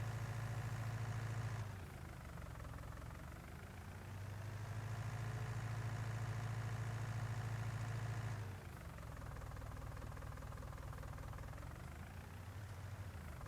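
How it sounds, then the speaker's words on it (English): A small tractor engine idles steadily in Farming Simulator 19, a continuous low droning hum that shifts in pitch twice as the revs change, loud and close with no talk over it. "What a brilliant little tractor."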